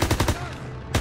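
Rapid automatic gunfire bursts in the Call of Duty WW2 campaign, a quick series of loud cracks that pause briefly and then resume with one final burst.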